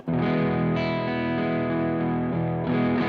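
An electric guitar chord on the bridge pickup rings out and sustains with a light overdriven crunch through a drive pedal, then is restruck near the end. Loud and close.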